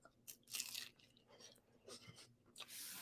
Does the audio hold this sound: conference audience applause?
no